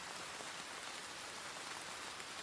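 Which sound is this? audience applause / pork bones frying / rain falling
rain falling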